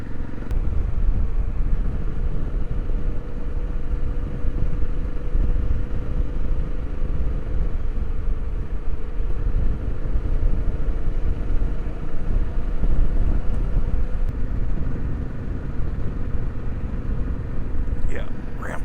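Motorcycle engine noise while riding, a low continuous rumble mixed with wind buffeting, steady and fairly loud throughout, with talking over it.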